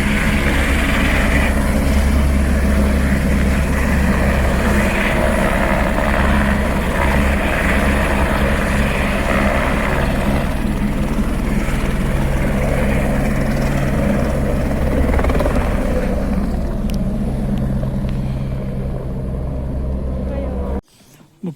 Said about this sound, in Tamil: ஹெலிகாப்டர் டேக் ஆஃப் ஆகும் போது